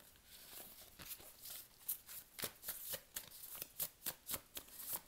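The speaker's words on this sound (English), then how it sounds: "we're just going to do four more shuffles" A deck of tarot cards is shuffled by hand up close, a quiet run of crisp riffling flicks and soft slaps in a steady rhythm with no talk.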